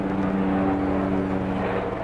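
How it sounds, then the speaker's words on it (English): A steady, droning helicopter hum hangs overhead above a building with collapsed floors, constant and fairly loud throughout, with no voices. "Helicopters are above looking for us."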